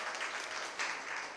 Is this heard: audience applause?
yes